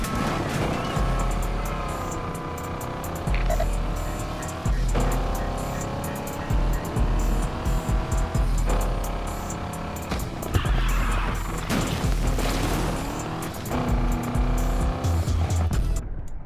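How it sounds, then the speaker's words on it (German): A car drifts in Need for Speed Unbound, its engine roaring and revving while the tires squeal in long, wavering screeches that break off and start again across the run. "Jetzt ist er komplett auf Drift."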